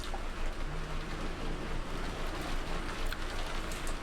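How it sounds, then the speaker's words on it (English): Steady rain falls continuously, a dense hiss of drops with a low rumble underneath and no voices. "hearing this rain kind of background noise is making me sleepy during my own stream"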